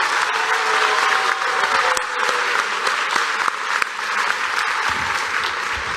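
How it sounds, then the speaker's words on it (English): A large audience applauds students standing on stage at a distinguished alumni awards ceremony, with steady, dense clapping that stays loud and even throughout, with no voices over it. "And there are 5 students up on this stage who deserve your applause."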